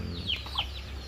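A pair of short clucks from a young chicken of good breed, a few months old, two distinct calls close together over a quiet background.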